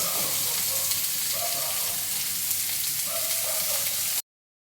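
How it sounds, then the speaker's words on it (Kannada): Chopped onions sizzle in a tablespoon of oil in a pan, giving a dense, continuous frying hiss with faint bubbling that stops abruptly near the end. "ಇದನ್ನು ಚೆನ್ನಾಗಿ ಗೋಲ್ಡನ್ ಬ್ರೌನ್ ಕಲರ್ ಬರೋ ಥರ ಫ್ರೈ ಮಾಡ್ಕೊಬೇಕು"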